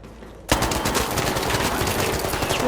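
Sustained automatic gunfire bursts in suddenly and keeps going as a loud, dense rattle of rapid shots in the shooter game ARC Raiders.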